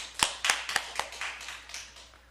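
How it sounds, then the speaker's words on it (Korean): Congregation in a church service clapping in praise, a few sharp claps at first and then a softer spread of handclaps that fades over two seconds, fairly quiet and without talk. "자, 하나님께 영광의 박수 돌리겠습니다."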